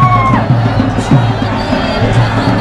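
Loud crowd at the Pushkar Holi festival on the fairground, a dense noisy hubbub with shouts and cheers over a thumping music beat, with someone talking close by.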